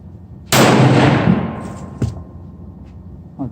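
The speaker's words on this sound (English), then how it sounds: "here goes the first shot at 100 yards with the same super performance" A Browning AB3 .243 rifle fires one loud, close shot at a 100-yard range, a sudden sharp crack followed by a rumbling decay, then a faint distant thud about a second and a half later.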